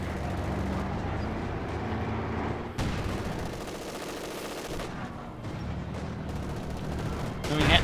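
Dense battle din from Company of Heroes 2 as bazookas and small arms fire at a Panzer IV tank, continuous overlapping shots and blasts at steady loudness, with a sharper impact near the middle and a louder burst at the end.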